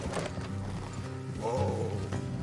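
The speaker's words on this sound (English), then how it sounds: "Let's leave the horses here and go the rest on foot." Horses clip-clop along with an occasional whinny in Red Dead Redemption 2, close and steady under game music, with no clear speech over it.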